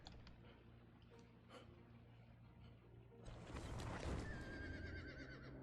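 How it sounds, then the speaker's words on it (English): A horse whinnies loudly in a video game over a low rumbling background, the neigh rising and wavering near the end after a quieter stretch. "And now the horses are whinnying."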